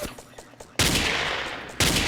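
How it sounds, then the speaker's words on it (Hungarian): Gunfire in the Ace of Spades video game: faint clicks first, then a loud sustained burst of shots that cuts off briefly and resumes, with no talking. "Elkezd rám lövöldözni"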